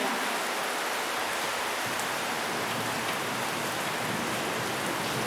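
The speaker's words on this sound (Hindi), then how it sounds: "अभी बाहर बारिश हो रहा है" Rain falls outside as a steady, even hiss of drops on surfaces, moderately loud and unbroken throughout, with no voices.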